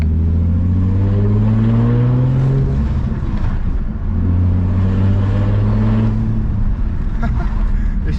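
A turbocharged BMW E30 engine revs in long rising pulls, twice in succession, with a deep tone and a whirring turbo sound layered on top, loud and close.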